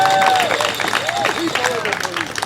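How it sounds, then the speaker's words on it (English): A crowd applauds at a political rally, with dense clapping mixed with cheering voices and shouts, fairly loud and steady throughout. "clap it up for care and"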